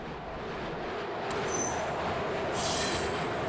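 A train pulls away from a station, a steady broadband rumble of rail cars rolling with faint high wheel squeal building toward the end, with no voices.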